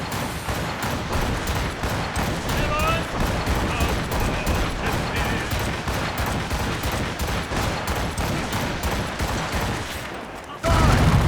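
A ship's broadside of cannons fires in Assassin's Creed Rogue during a naval battle. The shots come as a long, rapid volley of booming blasts that overlap in rhythmic bursts, then cut off into a louder rush at the end.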